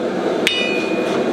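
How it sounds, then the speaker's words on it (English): A single sharp hammer strike rings out against metal while a nail is crudely forged into a knife blank, leaving a short metallic ring over a steady background hum. "just real crude forging"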